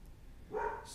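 A single dog bark sounds once in the background of a quiet room, a short muffled burst in the middle of an otherwise still moment.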